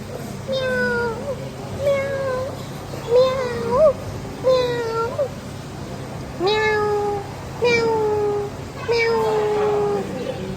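A cat meows repeatedly, about eight or nine distinct cries spaced through the clip, fairly close, with a low background hum and no talking.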